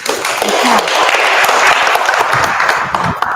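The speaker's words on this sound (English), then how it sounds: "I don't like clapping" Audience clapping at a Thursday service with mediumship, a loud, sustained burst of applause from a crowd with voices mixed in underneath.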